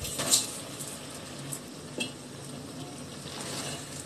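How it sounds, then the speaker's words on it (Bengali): Rice and lentils fry with cooked beef in a pan for bhuna khichuri, a quiet sizzle under soft stirring scrapes and a couple of light clinks of a utensil. "এবার মাংসর সাথে চাল ডালটা চার পাঁচ মিনিট একটু ভেজে নেব"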